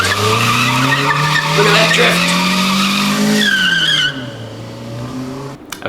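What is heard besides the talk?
Kia car drifting with tires skidding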